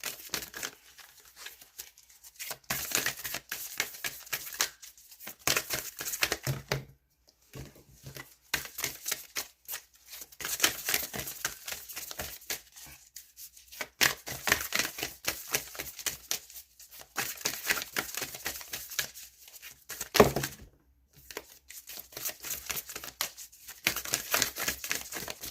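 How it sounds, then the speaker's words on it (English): Oracle card deck being shuffled hard and fast, producing dense bursts of papery riffling and flapping that run almost continuously, broken by a few short pauses, with no talking. "had to start shuffling all crazy just to get a card to come out"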